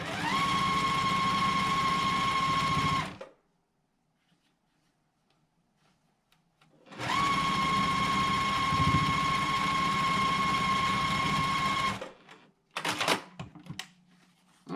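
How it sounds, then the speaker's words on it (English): A sewing machine stitches the last row of a quilt block in two sustained bursts of fast whirring with a steady motor whine, separated by a few seconds of silence, followed by brief handling clatter. "I'm just going to go ahead and sew that last row on"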